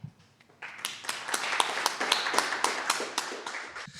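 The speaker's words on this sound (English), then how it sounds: "Next founder up. Round of applause." An audience at a startup pitch event breaks into applause for the next founder, starting with a few scattered claps and then swelling into rhythmic, fairly close clapping that ends abruptly.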